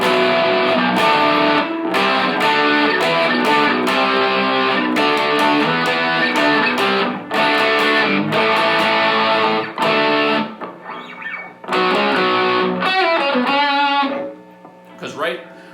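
A Peavey Bandit 112 guitar amp with gain and distortion turned all the way up plays crunchy, overdriven electric guitar chords and riffs, loud and close, in bursts with short gaps near the end.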